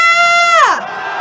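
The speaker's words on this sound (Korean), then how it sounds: "윤석열 탄핵에 대한 함성 시작!" Loud crowd at a candlelight march in Korea calling for the president's impeachment, a sustained sweeping shout that swells, then bends down and fades, with no clear talk.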